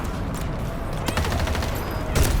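Rapid bursts of rifle fire from an M16A3 in the shooter game Battlefield 2042, loud repeated shots in quick strings with a brief pause, no talk over them.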